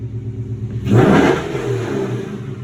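Hemi V8 engine with a ported factory intake revving hard once, a sudden loud surge rising from a lumpy idle then easing back to a rumbling idle, close and unaccompanied by talk.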